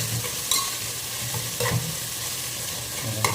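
Dried red chillies, three or four broken in half, fry in a pan as the base for a milk fish curry, sending up a steady close sizzle with a few soft stirring scrapes and clinks.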